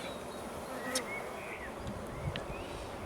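Honey bees hum in a hive during a spring inspection after a hard winter, a steady low drone filling the background with a few brief higher passes of individual bees flying close by.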